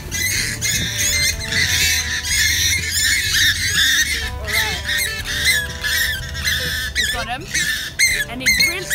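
A pukeko, a New Zealand swamp hen, squawks loudly and repeatedly while being caught by hand. The harsh, rapid calls sit close and come in bursts, with a person talking in between.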